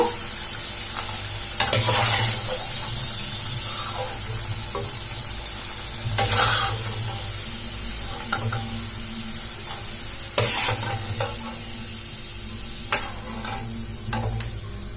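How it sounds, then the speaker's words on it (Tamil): Leftover rice snacks deep-fry in hot oil, giving a steady crackling sizzle broken every few seconds by louder bursts as they are stirred. No one speaks. "இப்ப எல்லா சைடும் வந்து நல்லா ஃப்ரை ஆகட்டும்."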